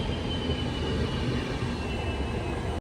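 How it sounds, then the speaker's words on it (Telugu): The Goa Express train on its run toward Dudhsagar, a loud, steady rail rumble with a faint high whine that holds for nearly three seconds and then cuts off abruptly. "చూడండి గోవా ఎక్స్ప్రెస్."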